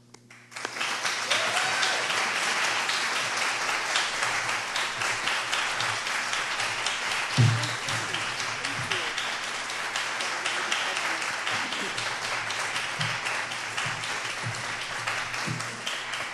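Sustained audience applause greets a lecturer at an annual lecture event, a dense, steady wash of many hands clapping from start to finish with a brief louder thump partway through.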